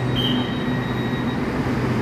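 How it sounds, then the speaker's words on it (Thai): A Red Line electric train at Bang Khen station, bound for Rangsit, gives a steady, close rumble with a faint high whine above it. The sound stays even, with no voices. "ก็มาปิดท้ายกันนะครับด้วยรถไฟฟ้าสายสีแดงมุ่งหน้าไปรังสิต"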